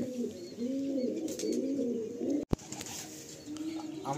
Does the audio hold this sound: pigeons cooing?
yes